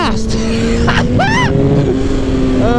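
A 2007 Suzuki GSX-R1000 liter bike pulls hard in second gear, its close engine note climbing in quick rising sweeps over a constant roar of wind.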